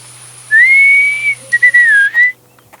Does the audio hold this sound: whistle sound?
yes